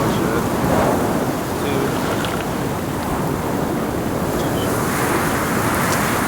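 Water is refilled in the survival video game Sons of the Forest, heard as a loud, steady rushing wash like flowing water or surf that continues unbroken throughout.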